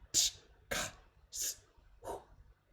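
A voice imitates a 909-style hi-hat layer for a minimal house beat, four breathy, hissing mouth bursts spaced at a steady rhythm, close and fairly quiet.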